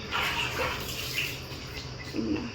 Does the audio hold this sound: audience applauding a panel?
no